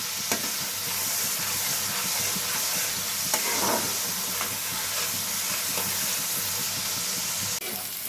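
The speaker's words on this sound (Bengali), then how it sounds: "এই পেঁয়াজটা যতক্ষণ না একটু কালার আসছে ততক্ষণ একটু নেড়ে যেতে হবে" Paste of boiled onion being stirred in a pan, a steady hissing sizzle with scattered spoon scrapes and knocks, close and fairly loud, no voices.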